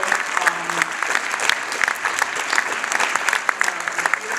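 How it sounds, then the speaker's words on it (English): Sustained applause from an audience after a film screening and post-film discussion, dense steady clapping filling the room with a faint murmur of voices underneath. "Can we just give a round of applause again for Abby in this incredible film"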